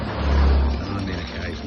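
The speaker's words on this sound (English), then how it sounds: "All you can hear is the occasional motorbike." A motorbike passes along a quiet Bangkok street, its low engine note swelling briefly nearby then fading into a steady background hum.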